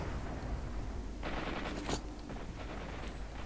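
A large gun firing in S.T.A.L.K.E.R. Shadow of Chernobyl, a couple of sharp blasts with short rumbling tails, moderately loud over a steady hissing background.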